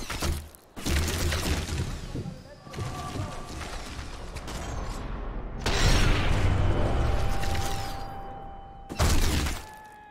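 Wine bottles shatter under gunfire in the video game Sniper Elite 4, with loud bursts of breaking glass and impacts coming in waves over rumbling mechanical noise, close and harsh.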